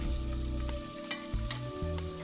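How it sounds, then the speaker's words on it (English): Shrimp heads with caramelized ginger sautéing in hot oil, a steady close sizzle with a few soft stirring knocks over a low background hum. "Saute everything together for like 10 seconds."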